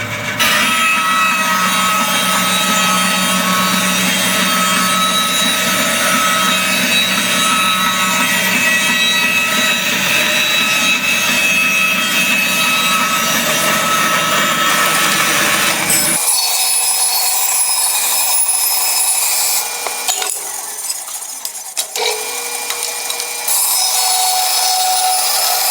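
A Rikon 14 inch bandsaw cuts wood, a loud, steady whine and rasp heard up close for about sixteen seconds, then the low tone drops away and a thinner, quieter hiss continues to the end.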